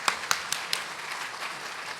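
A church congregation at a Sunday worship service claps. A few sharp, separate claps stand out at the start over a soft, continuous wash of distant clapping.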